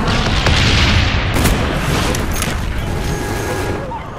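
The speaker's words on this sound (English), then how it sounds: "Napalm strike coming in" Napalm strike explosions in Call of Duty Black Ops multiplayer: a loud, dense roar of booming blasts and crackling fire that swells early and then sustains, with faint speech mixed in.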